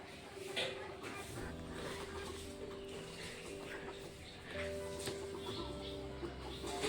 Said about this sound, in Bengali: কোথায় কোথায় মুরগি